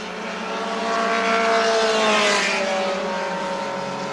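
Touring race cars roar past on a wet circuit at the 1981 Surfers Paradise 300, engines rising to a loud peak mid-pass with a drawn-out whine and then fading as they move away.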